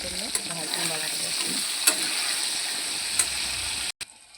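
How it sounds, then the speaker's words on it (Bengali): Pointed gourd (potol) sizzles steadily in a pan with salt and turmeric, a dense hiss broken by a few sharp clicks of stirring, stopping abruptly near the end. "এখন আমি পটল করলে ভাজতে ভালো করে।"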